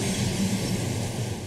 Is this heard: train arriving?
yes